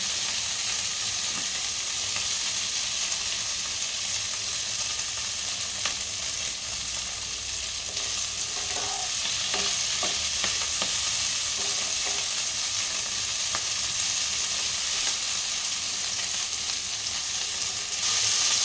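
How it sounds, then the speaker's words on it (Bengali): Potatoes frying in oil in a pan while cooking an egg dish, a steady continuous sizzle with light crackles and occasional stirring scrapes, close and even throughout with no talking. "আলুটা দেখতে একটু লাল লাল করে ভাজতে হবে"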